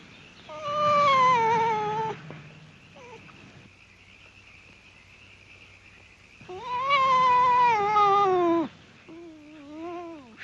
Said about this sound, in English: You're a nice kitty, but you have a funny tail.